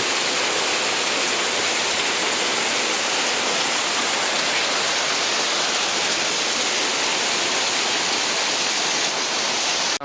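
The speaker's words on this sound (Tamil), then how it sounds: "அங்கேயே இருந்து ஃபுல்லாக தண்ணி ஓடி வருது" Floodwater rushes through streets flooded by heavy rain in Jaffna town, a loud, unbroken roar of running water from start to finish, no voices.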